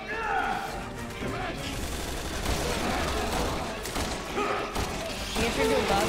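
Rapid gunfire and crashing impacts in the video game Resident Evil 6, dense and loud throughout, mixed with excited player voices talking over the action.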